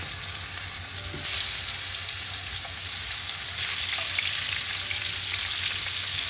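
Hilsa fish fry in a pan with a loud, steady sizzle that jumps up sharply as more pieces are added, then holds a dense crackling hiss close by.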